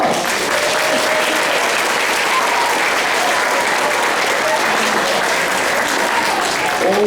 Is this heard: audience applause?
yes